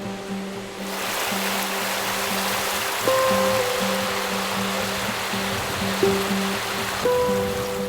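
The river below the Riverside Inn in Boscastle rushes in a constant broadband wash, steady and unbroken under a faint tonal hum.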